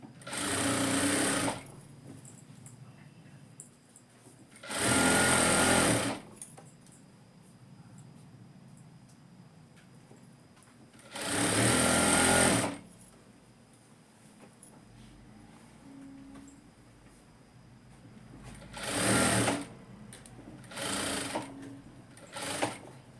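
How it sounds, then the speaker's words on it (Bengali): Sewing machine stitching palazzo pant fabric, running in five loud bursts of steady whirring stitching separated by quiet pauses with faint room noise. "তো চলো এখান থেকে আমি টানা সেলাই দিয়ে নিচ্ছি।"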